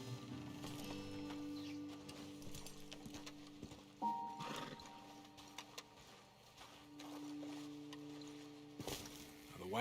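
Horses in Red Dead Redemption 2 shifting and clip-clopping at a halt, with scattered hoof steps, a snort or whinny, and a soft tonal game score humming underneath.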